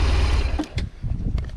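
A BMW R1200ST sport-touring motorcycle's engine runs at a steady low rumble, then is blipped with a few short throttle revs that rise and fall close by.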